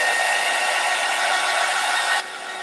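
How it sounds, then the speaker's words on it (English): Steady, loud whoosh of a heat gun blowing close by while drying paint on a paper craft, a constant airy roar with a slight drop in intensity near the end. "So let's hit that with the heat gun. We're just going to dry it."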